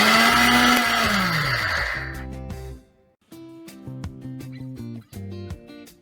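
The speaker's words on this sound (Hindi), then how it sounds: "अगर आपके मिक्सर ग्राइंडर में पल्स मोड नहीं है तो कुछ सेकंड्स के लिए ग्राइंड कीजिए, ऑफ कर दीजिए" An electric mixer grinder whirs loudly for about two seconds, grinding health mix ingredients into a fine powder, then winds down and stops; light music plays afterward.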